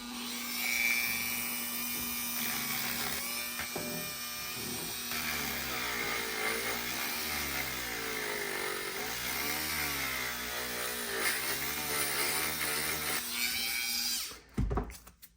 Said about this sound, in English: finish this up with the Dremel